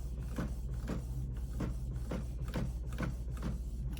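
A printer feeds and prints the second side of a duplex page, producing a steady series of rhythmic mechanical clicks and whirs about every half second over a constant low motor hum.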